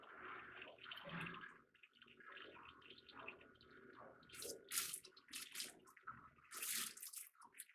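Fuel drains in uneven trickles and splashes from a failed boat fuel transfer pump with torn impeller vanes, quiet and close, with intermittent bursts of dripping and pouring.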